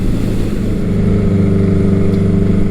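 A 1980 Honda CB900C motorcycle engine runs steadily during a test ride, a loud, continuous low drone with no breaks and no speech.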